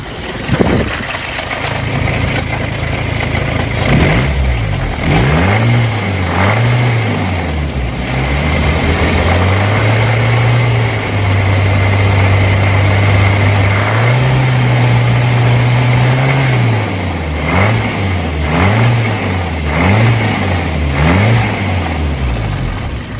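A 1987 Isuzu Piazza Turbo engine runs close by at idle with a slight miss, its low hum repeatedly rising and falling through several gentle revs before settling into steady idling, loud and alone.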